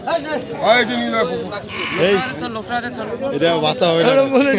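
Goats bleating at a busy rural livestock market, with repeated close, loud wavering calls overlapping the talk of people nearby.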